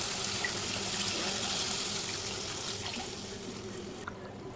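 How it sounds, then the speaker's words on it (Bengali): Water poured into a pan of cooked-down spice paste of ginger, garlic, cumin, chilli and tomato for a rohu fish curry, a steady close rushing pour that tapers off near the end. "তো দেখো মশলা কষা হয়ে গেছে, আমি জল দিয়ে দিচ্ছি।"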